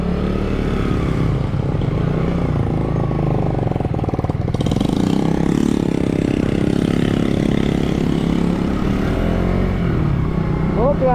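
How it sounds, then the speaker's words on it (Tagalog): At a hillside intersection, a motorcycle engine idles and runs steadily, a continuous mid-pitched drone heard close and loud, with voices talking over it. "O yan, may motor."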